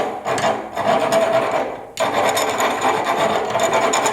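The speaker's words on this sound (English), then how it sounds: "take a round file and just go on the inside. And what I'm doing is I'm just getting rid of any burrs" A round file rasps back and forth inside a steel tube to remove burrs. The scraping strokes are loud, close and continuous, with one short break partway through.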